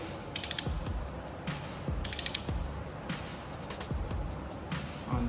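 A hand ratchet turns over a Toyota 2JZ-GTE engine to set the timing gear, its pawl clicking in quick bursts between strokes, with creaks and knocks of the crankshaft rotating in a garage.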